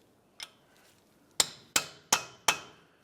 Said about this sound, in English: Continue with a hammer and punch.